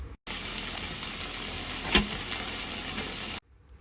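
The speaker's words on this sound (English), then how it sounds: "The hissing sound was the sizzle playing through my speakers on Bluetooth" Steady, loud sizzling of food frying in a pan, played back through a Bluetooth speaker in a van, a continuous bright hiss with a brief pop near the middle, then it cuts off abruptly.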